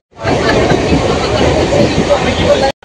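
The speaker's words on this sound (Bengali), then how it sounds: "আমরা ট্রেনে উঠে পড়েছি, এখানে সবাই বসে গেছে।" Interior of a moving passenger train, a loud continuous rumble of wheels and carriage noise mixed with passengers' chatter, cutting off abruptly just before the end.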